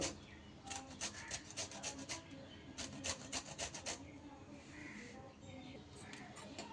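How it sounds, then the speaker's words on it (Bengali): Green skin is scraped off a pointed gourd (potol) in quick bursts of dry rasping strokes, close and fairly faint, pausing and resuming several times over a low background hum. "আমি এইভাবে ওপরের সবুজ অংশ খোসাটা একটু ঘষে নেব, একদম ওপরের সবুজ অংশটা।"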